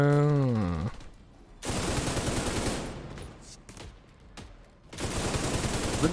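A turret in The Division 2 fires rapid automatic bursts, loud dense volleys broken by short gaps, after a brief tonal game sound at the start.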